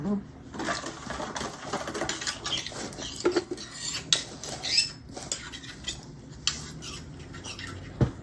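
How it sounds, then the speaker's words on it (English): A spoon stirs uncooked brine ingredients in a container, making light scraping and clinking sounds at close range, with irregular taps and knocks. "I'm just going to stir this up and get all of the ingredients a little meld."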